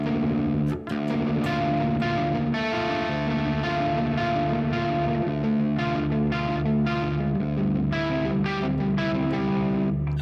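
A distorted electric guitar riff from a black metal song, full and saturated with effects, chugging through repeated phrases with sharp picked attacks, played alone without talk.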